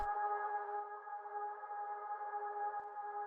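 A sustained, smooth synth pad holds steady chords with a wide reverberant wash, fairly soft and unchanging throughout.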